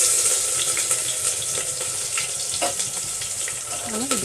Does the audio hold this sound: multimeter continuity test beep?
no